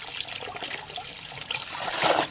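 Fresh parshe fish being rinsed by hand in water, giving close, continuous splashing and trickling that swells louder toward the end of a short burst.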